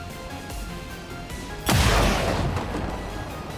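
A single heavy gunshot from the video game XCOM 2 cracks loudly partway through, its booming tail decaying over about a second over low game ambience.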